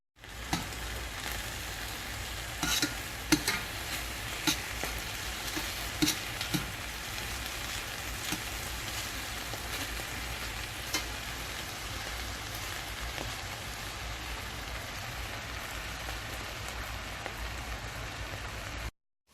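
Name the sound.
bourbon chicken frying in pan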